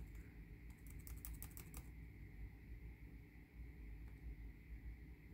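Keys clatter on a computer keyboard in a quick, faint burst of taps over a steady low hum, then fall silent apart from one lone click later on.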